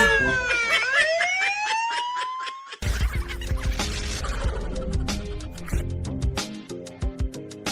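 A siren wails in a garlic field, a loud rising-and-falling electronic tone at the start, then giving way to busy musical sound with beats.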